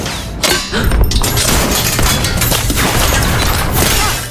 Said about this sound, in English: then the kitchen bell rang loudly and inopportunely